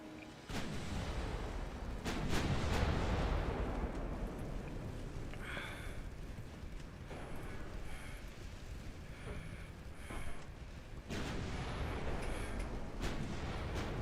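Warship guns firing in the Ultimate Admiral Dreadnoughts naval battle game, heard as deep booming blasts with long rumbling tails over a constant roar of wind and sea, the heaviest salvos near the start and near the end.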